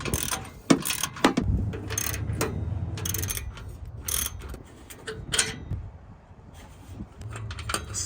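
Size 10 socket wrench ratcheting on bolts while fitting parts to an Infiniti Q60, with close clicking ratchet strokes and metallic clatter in irregular bursts over about eight seconds, then a quieter stretch, no talking.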